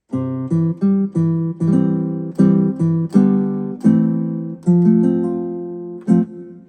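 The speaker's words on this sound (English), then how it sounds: "So we've got this nylon guitar here." Nylon-string guitar voice from a Yamaha PSR-EW425 keyboard, plucked chords in a steady rhythm, each note decaying quickly, clear and close with no talking.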